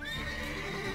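Horse in The Witcher 3 gives a loud, close whinny filling the whole second, with a faint clip-clop of hooves beneath it.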